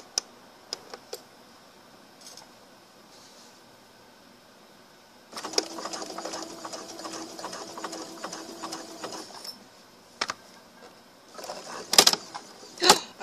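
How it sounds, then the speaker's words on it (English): A home sewing machine stitches trim onto a pillowcase dress in short quiet bursts. One longer run of fast, rhythmic needle chatter follows, then a few clicks and another brief burst, with no talk. "I am almost to the end of sewing the trim on."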